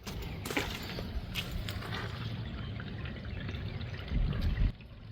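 Water pours from one rainwater tank into another, a steady splashing trickle at moderate volume that swells briefly louder near the end.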